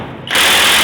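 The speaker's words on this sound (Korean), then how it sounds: "이 임팩이 엄청 센 겁니다." A strong impact wrench loosening a bolt on a homemade outrigger for a cargo truck, starting abruptly after a quiet moment and running as a loud, steady, rattling whir to the end.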